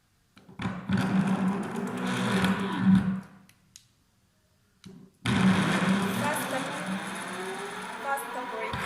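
A remote-control electric skateboard motor kit runs in reverse, a whining electric hum that plays for a couple of seconds, stops into near silence, then starts up again and keeps running.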